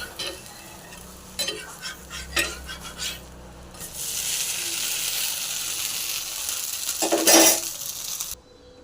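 Butter dosa batter frying on a hot griddle, a steady bright sizzle that swells after a few clattering scrapes and taps of a ladle or spatula, with a sharper burst of hiss near the end before it cuts off.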